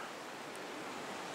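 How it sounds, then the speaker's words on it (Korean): Rough surf breaking on the East Sea coast of Korea on a windy day, a steady broadband roar of waves with gusty wind noise, close and continuous, with no voices. "파도가 거칠어"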